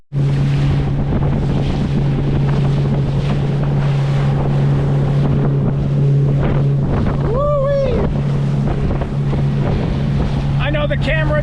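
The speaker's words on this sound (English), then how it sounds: "I know the camera does not do it justice, but these are solid 3-foot waves" Motorboat crossing solid 3-foot waves on a windy open lake in northern Canada's Lake Temagami. The engine drones steadily and loud under heavy wind buffeting, with occasional hull slaps and bursts of spray.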